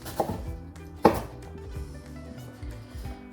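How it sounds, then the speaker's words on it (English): A knife chopping an onion into small dice on a cutting board, a few sharp close taps with one louder strike, then quieter cuts. "now I'm gonna go horizontally. Should make little diced onions."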